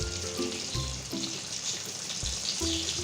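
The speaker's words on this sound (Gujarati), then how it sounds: "હવે આપણે એને સાઈડ બદલી દઈએ જેથી એ બે બાજુથી એકદમ સરસ તૈયારી તળાઈ જાય" Bread pockets frying in hot oil at medium heat as they are flipped to brown on both sides, giving a steady, close sizzle and bubbling that runs throughout with no talking.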